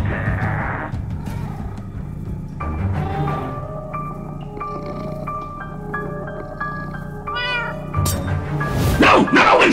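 A cartoonish cat meows repeatedly over music and game sound effects in the video game Minecraft Story Mode, several drawn-out mews close and clear, ending with a louder burst.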